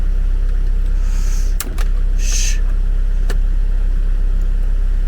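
A car engine idles steadily just after starting, a low continuous hum with a couple of sharp clicks and brief whirring bursts over it.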